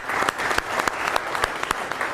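A seminar audience breaks into applause, a dense wash of clapping with a few louder individual claps popping out near the listener, steady for a couple of seconds.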